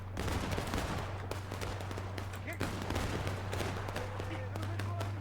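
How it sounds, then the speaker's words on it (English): Dense crackling bursts of pistol gunfire in the War of Brothers campaign of a video game rattle on without pause under a steady low hum, sounding like a busy battle at middle distance. "There's so much gunfire."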